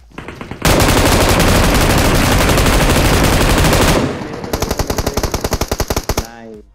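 An M249 machine gun fires in PUBG Mobile in loud, close, sustained bursts. One long unbroken stream of rapid shots is followed by a second run of distinct rhythmic shots, then a short fading tail.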